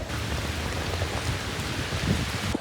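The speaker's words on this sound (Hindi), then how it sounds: "यहाँ बहुत तेज़ हो गई बारिश" Heavy rain pours down outdoors in Ottawa near Parliament Hill, a dense, steady hiss of drops hitting the ground that holds at a constant level throughout, with no voices.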